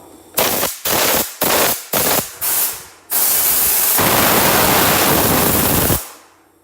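A used hopper-fed drywall texture spray gun releases compressed air: six short sharp bursts in quick succession, then one long, loud continuous hiss lasting about three seconds before it cuts off, close and harsh.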